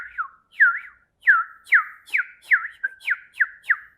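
A person whistles with the mouth alone, no instrument, mimicking a bird: about nine quick, bright chirps, each with a rising and falling swoop, spaced in an even rhythm, close and clear, with no talk.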